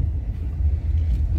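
Bangalore road traffic as a steady low rumble of passing car engines, continuous and fairly close with no distinct horns or voices.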